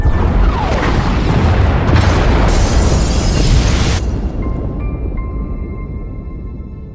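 Huge explosion tearing through the pod bays aboard a ship in Star Wars: The Old Republic, a loud sustained roaring blast with rumbling debris for several seconds, fading into a lower hum and quiet electronic tones.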